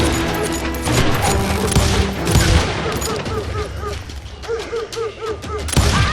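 Gunfire in the Western shooter Call of Juarez: Gunslinger, dense bursts of shots and booms rolling steadily through the clip with shouting voices mixed in.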